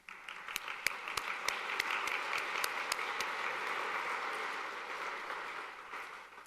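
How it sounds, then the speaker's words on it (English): Church congregation giving a round of applause, sustained dense clapping from many hands filling the room, with a few sharp individual claps standing out early and the sound tapering slightly near the end. "And let's give it a round of applause."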